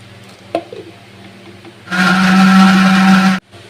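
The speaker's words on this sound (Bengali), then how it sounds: "পেঁপেগুলোকে প্রথমেই কিন্তু আমি মিক্সারে দিয়ে একটু পেস্ট মতো করে নেব" A mixer grinder blends papaya with cold water into a paste, starting abruptly with a loud steady motor whir and grind for about a second and a half before cutting off, after a brief clatter of the jar.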